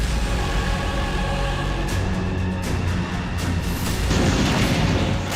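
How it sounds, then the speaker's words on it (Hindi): A continuous roar of heavy explosions and booming blasts from Russian drone strikes in Kursk, dense and loud throughout, with sharper cracks breaking through near the end. "आसमान से रूसी सेना का ड्रोन गिरा, धमाका हुआ"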